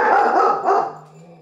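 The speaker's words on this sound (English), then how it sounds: "the barking of the dogs" Dogs barking in a short burst of overlapping barks, fairly loud and close, fading toward the end of the moment.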